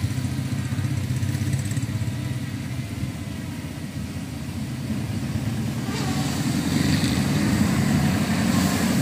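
A DJI drone flies in over Santa Clara beach in Rio de Janeiro state, its steady buzzing drone rising slightly as it nears, over constant low wind and surf rumble with no talking.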